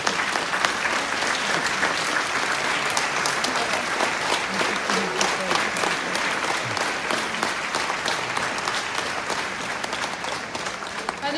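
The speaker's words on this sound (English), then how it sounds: "I think the rider deserves a very big round of applause" Sustained applause for the rider after Charlotte Dujardin's test ride on the horse Demand 1344 rolls on evenly for over eleven seconds, a broad wash of clapping from the surrounding crowd.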